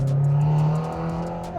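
A Subaru car engine revs briefly and steadily, holding a strong low hum before easing off slightly, heard close by from inside the car.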